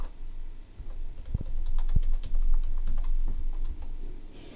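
Someone enters a password on a computer keyboard: a quick, irregular run of close key taps and clicks, fairly loud over a low room hum, with no talking.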